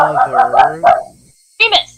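A pet dog barks and yips several times in quick bursts, close by and mixed with a person's talking, then a final short pair of barks after a pause.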